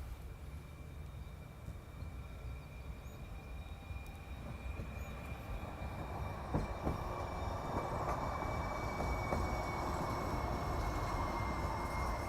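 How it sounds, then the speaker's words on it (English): A San Francisco streetcar rolls past on its rails in the Mission District, a faint low rumble with thin wheel whine that swells gradually as it draws nearer, heard at a distance amid street ambience. "Okay, here it comes, the streetcar."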